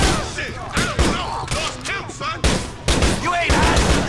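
Repeated gunfire from a weapon in GTA IV: The Lost and the Damned, loud bursts of shots at an uneven rhythm over about four seconds, with dense crackling and thuds between them.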